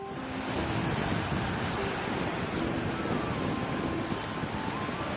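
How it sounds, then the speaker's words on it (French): Waves of Lake Tanganyika at Kalemie breaking in a steady, wind-blown wash along a flooded shoreline, continuous and moderately loud with faint tonal hums in the background. "Ces vagues en sont le vrai témoignage."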